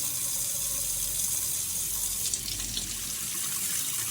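Tap water pours in a steady, continuous stream into a bowl while 350 grams are measured out for sourdough bread dough. The rushing and splashing stays even and close for the whole stretch.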